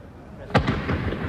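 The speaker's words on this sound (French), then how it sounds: "Vers 23 h, de puissants bruits de pétards retentissent à travers toute la ville." Firecrackers go off in Naples at night: one sharp, loud bang followed by a few quicker, fainter pops and crackles echoing across the city, with no voices.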